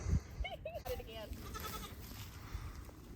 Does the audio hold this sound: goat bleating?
yes